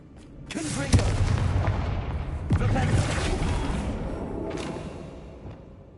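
Video game Confringo blasting spell explosions, with heavy booming blasts and rumbling debris in a couple of sharp hits. A voice talks over them amid a loud, sustained roar.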